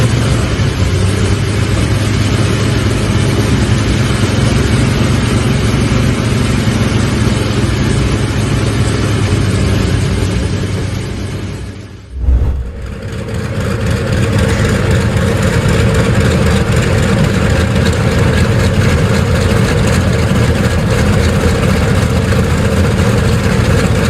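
A historic World War II radial aircraft engine runs loud and steady at close range, a dense rumbling roar that briefly dips midway before settling back into a strong, even idle.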